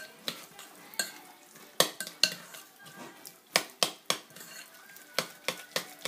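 Spoon stirring and mashing avocado guacamole in a bowl, with a run of sharp scraping clinks against the bowl in an irregular rhythm, close and fairly loud over a quiet background.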